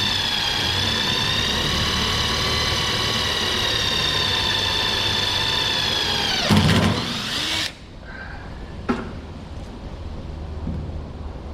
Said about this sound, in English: I'm drilling a hole.